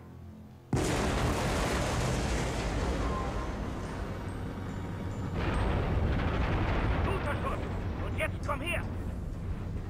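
In Star Wars: The Force Unleashed 2, a cannon fires with a sudden loud boom that launches a sustained roaring rumble that keeps rolling, with a second surge partway through and voices faintly underneath.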